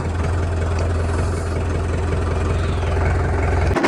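A tractor engine idling on a Punjabi farm during wheat spraying work, a loud, steady low diesel rumble with constant vibration that continues without break and cuts off abruptly at the end.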